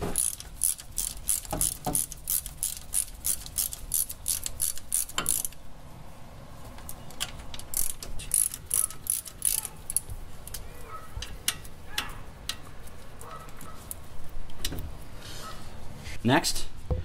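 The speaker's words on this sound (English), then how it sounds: "we use a 7 millimeter Allen" A ratchet turning a 7 mm Allen socket loosens the front brake caliper bolts on a Volvo 850, making bursts of rapid, loud, close pawl clicking that pause and resume, with a voice briefly present.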